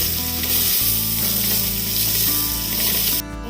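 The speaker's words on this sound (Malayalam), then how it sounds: "ഒന്ന് വെളുത്തുള്ളി ആയി വരുമ്പോഴത്തേക്കും നമുക്കൊന്ന് സവാള ഇട്ട് കൊടുക്കണം. വഴറ്റി കൊടുക്കണം." Onions sizzle loudly in a hot pan with garlic, a constant frying hiss with stirring scrapes and a brief break near the end, no talking.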